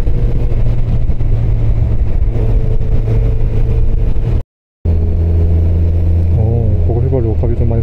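A Suzuki Hayabusa motorcycle's exhaust drones steadily while riding through town, a low engine tone under continuous talk, with a brief dropout midway and a rising pitch as it revs toward the end.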